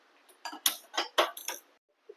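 A metal kadhai pan is set down on a kitchen stove with a cluster of close metallic clanks and scrapes, a few quick knocks over about a second, then quiet.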